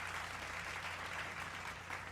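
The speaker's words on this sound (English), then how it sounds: "we need the applause sound effect" Applause sound effect: a steady, dense wash of many hands clapping at once, continuous and even in loudness from start to finish, fairly faint with no voices over it.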